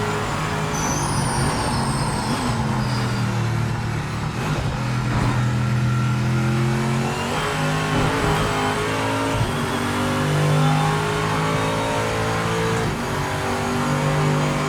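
A Corvette GT race car circles Daytona in a racing game, its engine droning steadily loud and close, with the pitch rising and falling through gear changes and no talk.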